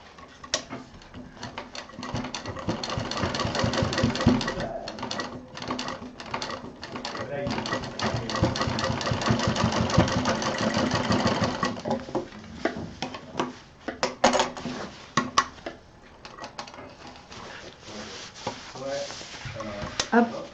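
A sewing machine double-stitching seams on a homemade college bag runs in a steady fast needle clatter for about twelve seconds, then slows into shorter bursts and pauses while someone talks over it.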